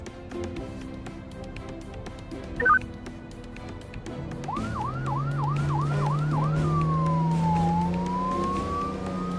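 An emergency siren starts after a quiet stretch, first a fast repeated whoop, then a slow rising and falling wail over a low engine rumble.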